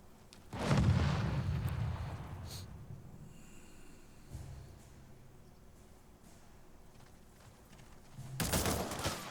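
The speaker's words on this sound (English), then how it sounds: "more mortar squads firing on my troops" In the Company of Heroes 3 battle, a heavy mortar blast booms close by and rumbles away. Softer distant thuds follow, then another loud burst near the end, with a faint background hum.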